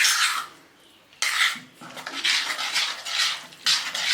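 A spoon scrapes and clinks around a bowl of semolina mixture with chili flakes, for a low-calorie weight-loss snack. The stirring comes in several bursts of close, fairly loud scraping with short pauses, and no one talks.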